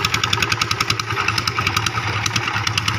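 A motorcycle engine runs steadily at idle, close by, with a regular pulsing knock and a loud, rough exhaust note throughout.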